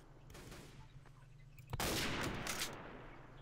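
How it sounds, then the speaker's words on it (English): A sniper rifle shot rings out in the 1942RP game, one sharp loud crack near the middle followed by a rumbling echo that trails off, over quiet background noise. "I just sniped the fuck out of a guy."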